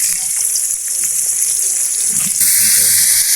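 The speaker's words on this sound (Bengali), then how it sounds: "ছোট ছোট চিংড়ি মাছ কাটা এই ধরে নিলাম ভাজতে নিলাম" Small cut shrimp fry in oil with a loud, steady bright sizzle and hiss that swells stronger near the end, recorded close up.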